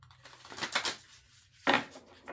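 A deck of oracle cards is shuffled in two quick, papery bursts, the second short and sharp, close and fairly quiet, with no voices.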